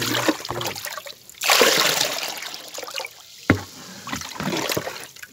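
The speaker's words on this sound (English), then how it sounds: "Whirlpool. Relaxation. ASMR." Water swirls and trickles in a small whirlpool experiment, with gurgling bursts and splashy surges rising and falling in close, intermittent waves.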